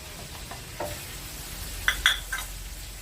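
Onion sautéing in a pot for chicken tinola, a steady soft sizzle broken by a few stirring scrapes and metallic utensil clinks against the pot toward the end.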